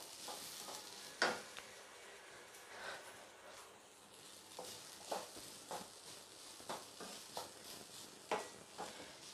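Paneer and potato filling is stirred in a pan with a spoon, giving soft scraping strokes and light clinks at an irregular pace, fairly quiet and close.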